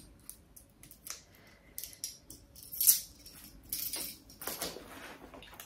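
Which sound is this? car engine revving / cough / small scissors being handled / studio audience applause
small scissors being handled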